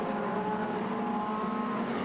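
Modified sedan race cars circle Lismore Speedway, a steady, droning roar of several engines held at high revs, fairly distant and constant with no voices over it.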